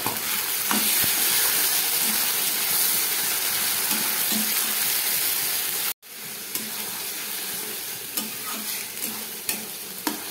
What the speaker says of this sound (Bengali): আবার মশলা দেওয়ার পরে 2 মিনিটের মতো ভেজে নিলাম